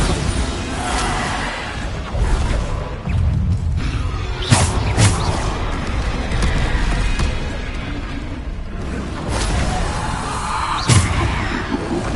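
Bombarda blasting spell explosions in Hogwarts Legacy combat, several sharp bangs and crashes with whooshes over a dense, noisy battle bed.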